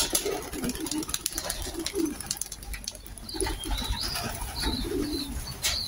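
Grizzle pigeons returning to their loft coo in soft repeated low phrases close by, while other birds chirp faintly in the background.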